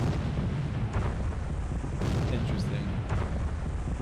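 A 76.2 mm gun fires in a Spanish Civil War wargame set in 1936–39, giving dull booming shots roughly a second apart over a continuous low rumble.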